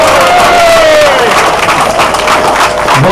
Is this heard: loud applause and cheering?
yes